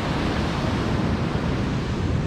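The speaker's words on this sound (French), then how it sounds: "derrière moi, il y a des grosses vagues" Big ocean waves, around two and a half to three metres, crash close by in a steady, loud wash of surf noise that fills the whole stretch with no voice over it.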